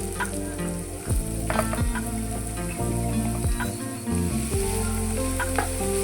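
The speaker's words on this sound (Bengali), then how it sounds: "সবজিগুলো ভাজার জন্য কড়া বসিয়ে 2 চামচ সাদা তেল দিয়ে দিয়েছি। হালকা গরম হয়ে যাওয়ার পরে আদা কুচি, রসুন কুচি দিয়ে দিয়েছি।" Chopped ginger and garlic fry in white oil in a wok, giving a loud, continuous crackling sizzle, up close, with repeated scrapes and knocks of a spatula stirring throughout.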